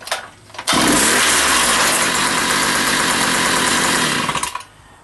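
A Jiffy 2-cycle engine starts on half choke and quickly settles into a loud, steady, close-up idle with a raspy buzz, then cuts off after about four seconds.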